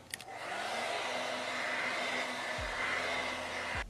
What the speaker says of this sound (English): Use my blow dryer on high and hot.